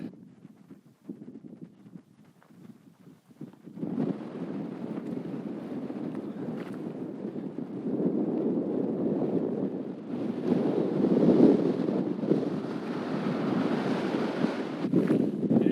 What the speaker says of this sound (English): Nice and exposed to the wind.